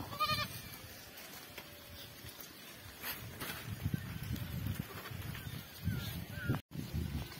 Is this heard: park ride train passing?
no